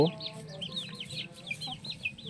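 Several desi (native) chickens on a Karnataka farm cluck and chirp softly nearby in a continuous, busy chatter.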